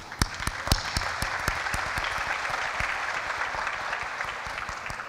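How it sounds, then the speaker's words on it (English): Applause from the audience at a pharmacy white coat ceremony, a steady wash of many hands clapping that continues for several seconds with no speech over it. "So they deserve also a round of applause."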